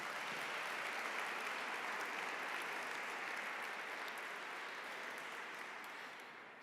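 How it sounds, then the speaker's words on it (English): Audience applause at a Ramadan iftar celebration, a dense steady wash of many hands clapping that fills the whole stretch alone and tapers slightly at the end. "One more round of applause."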